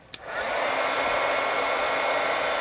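A heat gun switches on with a sharp click and settles into a loud, steady blowing roar, used to heat-set metal leafing on a decorated gourd.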